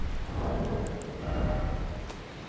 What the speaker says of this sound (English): I didn't know it could actually rain in this game